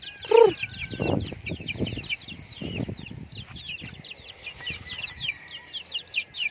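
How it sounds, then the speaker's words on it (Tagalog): Free-range native chickens cluck from close by while a dense stream of high chirps and peeps runs steadily underneath, with no talking. "Ganyan kasi yung mga manok"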